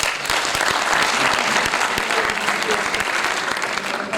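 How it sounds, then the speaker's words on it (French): Audience applause at a French-speaking gathering, dense steady clapping from many hands throughout, loud and close, with no break. "acclamons très fort pour les encourager"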